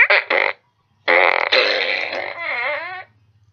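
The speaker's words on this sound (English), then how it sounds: "his fart gun." A child's toy fart gun lets out two short blasts and then a longer, wobbling raspberry-like fart noise, loud and close, with nothing else around it.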